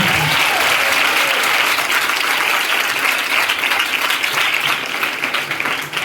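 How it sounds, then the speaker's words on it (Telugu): A congregation in a prayer house claps loudly and continuously, a dense wash of applause that holds steady, then eases slightly at the very end. "నమ్ముతున్న వాళ్ళందరూ గట్టిగా చప్పట్లు కొడుతున్నారు"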